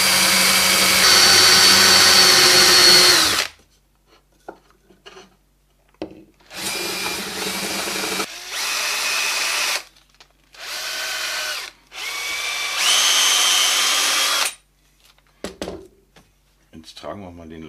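A power drill driving a screw up from below into a handmade wooden desk lamp, several loud bursts of whirring with short pauses between them, close by and without talk.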